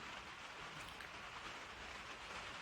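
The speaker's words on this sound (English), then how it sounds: "May hear some rain in the background on the tin roof here in Middle Tennessee." Rain falling on a tin roof in Middle Tennessee, a faint, steady hiss of drops drumming without a break, distant and low in level.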